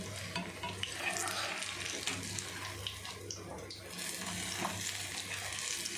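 Banana bajji fritters deep-frying in oil while being turned, a steady close sizzle with scraping stirs and bubbling throughout, no voices.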